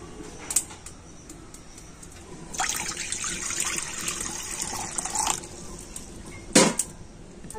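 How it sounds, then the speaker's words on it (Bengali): Water is poured into a wok (kadai) on a lit stove to set up steaming: a steady, fairly soft rush of liquid lasting about three seconds, with a brief sharp clink afterward and no talking. "তো কড়াইতে আমি দিয়ে দেব জল।"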